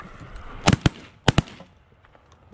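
Shotgun blasts ring out during a goose hunt, two loud close pairs of sharp reports followed by a fainter single shot at the end, with outdoor background noise between.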